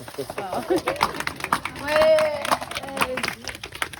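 A small group claps for a boy's birthday outdoors in Pluckley village, the patter of hands running steadily beneath overlapping voices and chatter.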